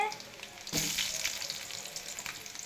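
Potatoes going into a bowl of hot oil for homemade French fries, a brief rush and then a steady hissing sizzle close by with no talking.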